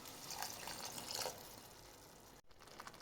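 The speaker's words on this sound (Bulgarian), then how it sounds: "добавяме 180 мл вода" Faint splashing and trickle of about 180 ml of water poured into a pan of rice, a brief burst of liquid that tapers off, followed by a short cut and quiet background.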